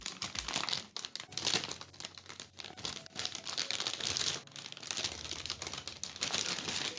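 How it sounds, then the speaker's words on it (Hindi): Graphics card packaging for an RTX 3060 is torn and crinkled, making continuous rustling, ripping and crackling up close in uneven waves. "अब इसको मैं ऐसे उखाड़ूंगा तो सील फट जाएगा"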